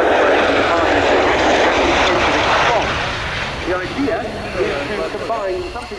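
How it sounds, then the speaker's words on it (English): Loud, droning roar of a CV-22B Osprey tilt-rotor aircraft's engines in Suffolk, steady at first and then easing slightly, while a person talks over the noise. "this is a tilt-rotor"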